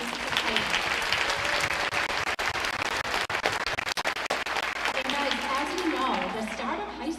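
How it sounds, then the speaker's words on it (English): A school audience at a freshman acceptance event claps in a sustained burst of applause that fades toward the end, with some voices mixed in. "So a round of applause."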